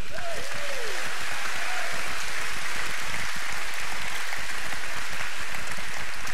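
Congregation at an Angus Buchan evangelistic gathering in Fort Smith, Arkansas, clapping in a loud, steady wash of applause that fills the whole stretch, with a brief voice at the start.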